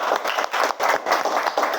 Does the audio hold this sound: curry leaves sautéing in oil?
no